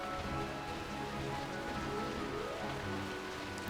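Steady rain in the video game Final Fantasy XII, a continuous wash of falling drops with a low ambient music bed beneath, even and unbroken throughout with no voices.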